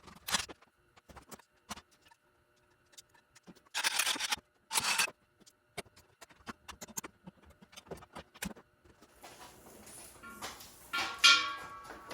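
Metal scooter being torn down for aluminum scrap: scattered clicks, scrapes and clanks of tools and parts, with a few longer rattling bursts and a louder grinding scrape near the end, close and intermittent, no talk.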